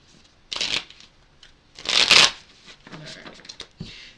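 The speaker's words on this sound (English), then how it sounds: "I'll give them each a couple shuffles here" Oracle cards are shuffled close by in a few quick riffling bursts, the loudest around the middle, with quiet pauses between the shuffles.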